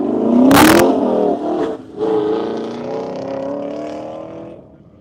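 Toyota small car launching at an autocross course on an airfield, engine revving hard then holding a steady rising drone as it accelerates away, loud and close with a brief burst of tire or wind noise early on.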